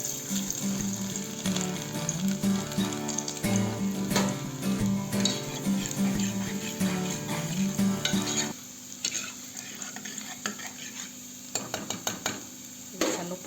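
Finely chopped garlic sizzling in a hot pan for an aloo matar sabji, steady frying crackle with rhythmic stirring scrapes, dropping to quieter sizzle with a few clinks near the end.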